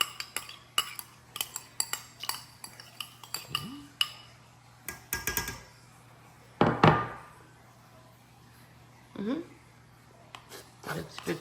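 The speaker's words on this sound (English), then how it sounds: "Now we're gonna mix everything together." Plantain akra batter mixed by hand in a bowl, with a utensil scraping and clinking against the sides in irregular bursts, a few louder knocks near the middle, and voices talking now and then.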